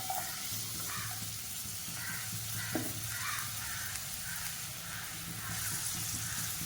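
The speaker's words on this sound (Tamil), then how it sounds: "இப்போ இந்த வெங்காயத்தை ஒரு 3/4 பதம் வதக்கிக்கணும்" Long-sliced medium onions sautéing in a pan for chicken pulao, a steady soft sizzle with occasional stirring scrapes, close and continuous with no talking.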